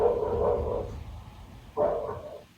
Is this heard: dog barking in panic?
yes